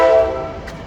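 A passing train sounds a strong, steady horn-like tone that fades slightly over a second, heard alone without talk.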